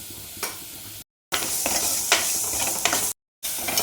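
Onion, garlic, crushed dry red chili and salt sauté in a pan, a close, busy sizzle broken by stirring scrapes and clatter, cutting out briefly twice.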